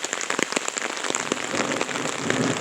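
Steady rain patters on surfaces outdoors during a thunderstorm, with dense close drops and scattered sharper splats running through the whole stretch, no voices.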